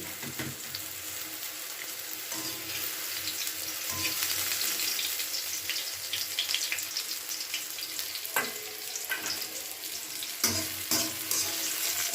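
Sliced eggplant fries in hot oil in a pan, giving a steady, close hissing sizzle throughout, with occasional light clatters as the pieces are turned.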